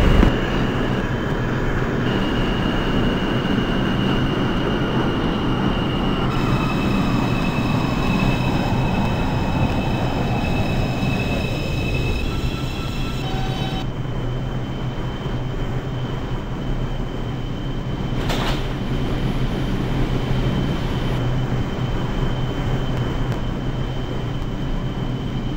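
A simulated NYC subway 2 train in openbve runs steadily along the track, its loud motor whine falling in pitch as it slows, then a constant rumble with a faint tonal hum and one brief sharp squeal.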